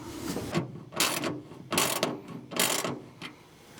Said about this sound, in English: tighten down the J-hook bolt.